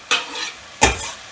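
Two short bursts of loud sizzling as vegetables with garlic are stirred in a hot pot, each hiss fading quickly.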